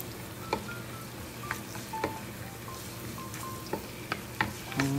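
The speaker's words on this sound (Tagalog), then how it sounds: "Gigisa ko muna yung bawang at sibuyas." Garlic and onion sautéing in a pan for suam soup, a steady low sizzle with scattered sharp clicks and taps of a utensil against the pan, close and without talk.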